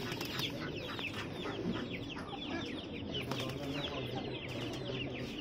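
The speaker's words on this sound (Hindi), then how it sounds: "यही देसी, देसी कबूतर" Desi pigeons crowd a busy bird market at Jama Masjid in Delhi, with a continuous dense din of cooing, clucking and fluttering wings from many birds over general market bustle.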